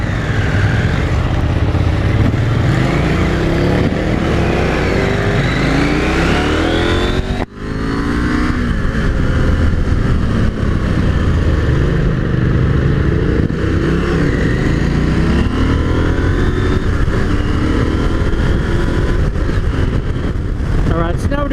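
A KTM 890 Adventure R Rally motorcycle cruises through a canyon at about 60 mph, its engine a loud, steady drone with rising and falling pitch. A brief dip near the middle marks a gear shift into sixth, and a rider speaks over the engine.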